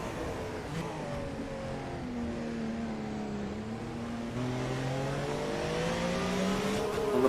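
An onboard Porsche race car engine in a racing video game at Daytona, a loud close whine that climbs steadily in pitch, shifts gear and rises again over faint tyre and road noise.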